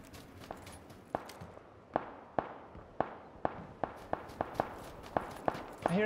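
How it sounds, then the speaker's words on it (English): Sharp bangs crack out one after another at an uneven pace, like distant gunfire, in the video game PUBG: Battlegrounds, over a low background rumble with no talking. "I hear gunshots over here"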